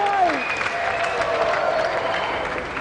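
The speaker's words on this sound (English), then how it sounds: "Another round of applause" A studio crowd on the Games Master TV show applauds and cheers Jimmy White after a snooker shot, giving a sustained, moderately loud burst of clapping mixed with a host's voice and a falling electronic tone at the start.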